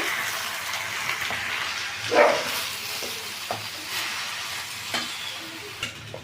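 Ridge gourd and spinach frying in a pan are stirred with a utensil, producing a soft, steady sizzle with a louder scrape near two seconds and a few light knocks, and no one speaks.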